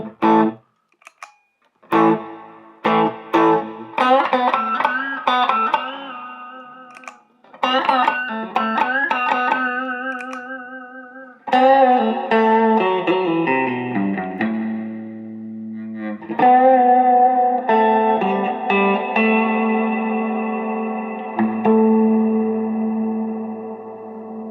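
An electric guitar played dry, with no reverb added, in short picked phrases and sustained chords that stop and start, loud and close with clear ringing notes.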